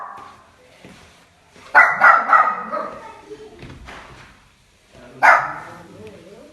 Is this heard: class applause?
no